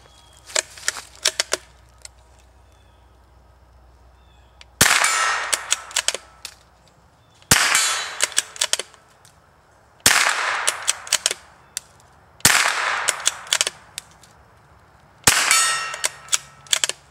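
Supersonic rifle rounds are fired at a metal cowboy target, about five separate shots spaced a few seconds apart, each a sharp crack followed by a ringing metallic clang, with quieter clicks between.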